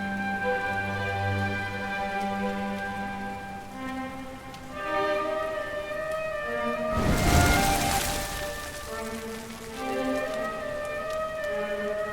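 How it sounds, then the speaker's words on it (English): Steady rain pours down continuously in the Dragon Quest XI video game, a dense hiss under a layer of sustained musical tones, with a brief swell of heavier downpour midway. "Looks like the rain's dying down."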